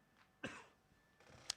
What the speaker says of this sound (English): Didn't want to cough into the microphone